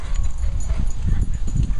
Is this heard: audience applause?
no